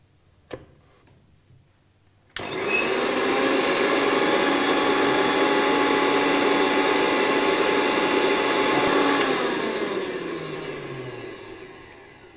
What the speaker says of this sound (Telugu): మిక్సీ చేసుకోవాలి